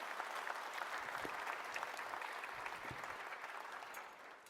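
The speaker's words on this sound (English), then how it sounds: "Please give them another round of applause." A conference audience gives honorees another round of applause, with steady, full clapping from many hands that holds evenly and then tapers off near the end.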